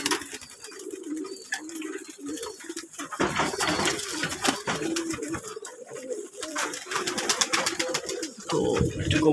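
Pigeons in a loft, recently given a deworming course, coo steadily while one scuffles and fights, with wing flaps and sharp bursts breaking through close, continuous cooing.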